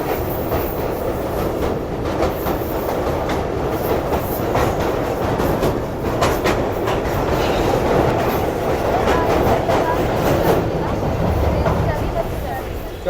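Rehman Baba Express passenger train running on the rails between Kotri and Hyderabad, a loud steady rumble of wheels with clickety-clack rail joints throughout, heard from on board.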